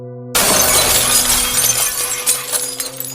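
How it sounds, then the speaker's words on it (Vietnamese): A sudden loud crash of a glass pane shattering, followed by tinkling shards and debris scattering for a few seconds. "Màn kính vỡ vụn."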